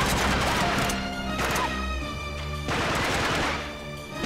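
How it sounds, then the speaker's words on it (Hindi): Continuous rapid gunfire in the video game Uncharted 3: Drake's Deception, loud and layered over droning background music, with bursts overlapping throughout and no pauses. "कहां से गोलियां चल रही है?"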